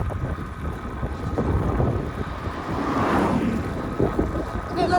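Strong headwind roaring across the microphone while cycling outdoors, a continuous buffeting rumble that swells and gusts throughout.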